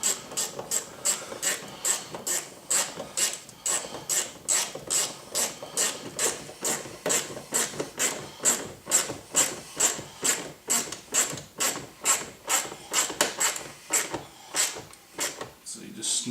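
A socket ratchet clicks in a fast, steady rhythm while snugging fasteners on a 2015+ Ford Mustang door panel during a speaker install, the close, sharp clicks running almost continuously.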